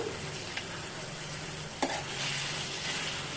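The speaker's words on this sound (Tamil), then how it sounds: "ரெண்டு டீஸ்பூன் மிளகாய் தூள் அப்புறம் குழம்புக்கு தேவையான குழம்பு மிளகாத்தூள் இதையும் நான் இதில் சேர்த்து நல்லா வதக்கி எடுத்துக்கலாம்" Chili powder sautéing in hot oil for an anchovy fish curry, a steady, close sizzle with a couple of brief stirring clicks, no talk.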